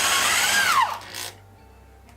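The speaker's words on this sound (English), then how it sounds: "So I have my 3/8 drill bit." A power drill fitted with a 3/8 inch bit whines loudly, then its motor pitch drops as it spins down and stops, leaving near silence.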